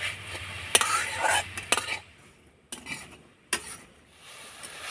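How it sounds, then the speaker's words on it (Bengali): A spoon stirs sweet pitha filling made with jaggery in a pan. It gives a few sharp metallic scrapes and clinks early on, then quieter intermittent taps and rubbing. "এবার নাড়াচাড়া করে আমি পুরটা তৈরি করে নেব"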